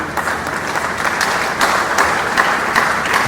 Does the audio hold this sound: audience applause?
yes